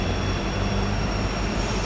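Norfolk Southern freight train 282 departs Simpson Yard near Folkston, heading north for Chicago. A loud, steady, close rumble of diesel engine and rolling wagons runs without a break, with no talking.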